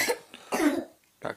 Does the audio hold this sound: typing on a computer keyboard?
no